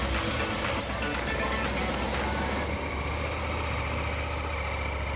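A new KTM 890 motorcycle idles steadily after its first start, a constant low engine rumble filling the clip close by with no talk over it.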